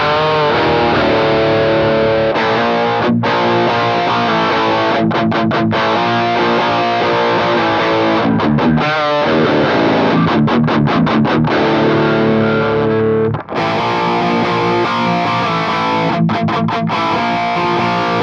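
Boosted high-gain guitar tone from a 1989 Peavey Bandit 112 combo amp, close-miked, plays as loud, continuous distorted chords and riffs with brief stops and short pauses between phrases, no talking.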